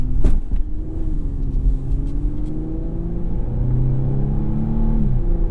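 A 2008 Infiniti M35X's VQ engine revs up and down nearby with a touchy throttle, its hum rising and falling in pitch over a low steady rumble.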